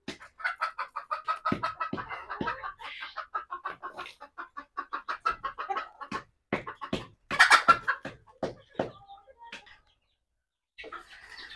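Domestic chickens cluck repeatedly inside a backyard chicken house, a busy, close stream of short rhythmic clucks and squawks with brief pauses and a louder burst near the end.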